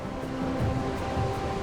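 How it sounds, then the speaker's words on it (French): Surf crashes against a limestone stretch of the Atlantic coast, giving a rolling, continuous wash of waves with swells that rise and fall, heard from moderately close. "Quand le ressac fouette la côte,"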